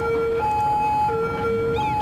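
Police car siren in Cities Skylines, a steady two-tone wail alternating at an even pace, loud and near, with traffic noise beneath.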